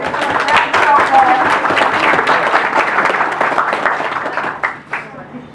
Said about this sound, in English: I think he does a round of applause.